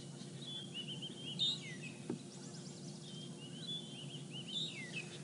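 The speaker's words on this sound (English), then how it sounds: "I can hear some lilac-breasted rollers" Lilac-breasted rollers give harsh calls at a distance on a morning safari drive in the African bush, heard as scattered faint rasping notes over quiet ambient noise, with no voices.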